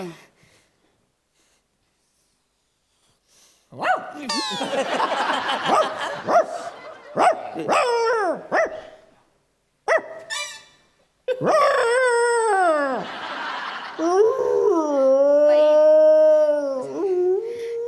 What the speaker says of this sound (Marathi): सर, तो कुत्रा आहे.